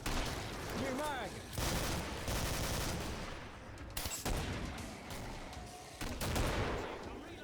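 Dense gunfire in a video game shooter, a tournament grand final of Killing Floor: rapid continuous bursts and booming shots, loud throughout with short breaks, and voices talking under the shooting.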